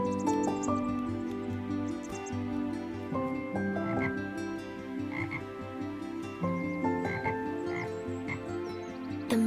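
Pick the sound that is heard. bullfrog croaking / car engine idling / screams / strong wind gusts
bullfrog croaking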